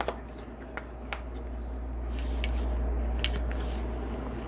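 Metal measuring spoons clink in a home kitchen, a few sharp, scattered taps against a steady low hum, close by with no talking.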